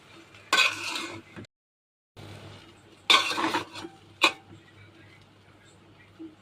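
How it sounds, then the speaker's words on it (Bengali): Cooked rice being mixed with other ingredients in a pot gives clanking scrapes of a utensil against metal in two brief bursts, with a short silent gap and quieter scraping afterward. "ভালো করে সবকিছু একদম রাইসের সাথে মিশিয়ে নিব।"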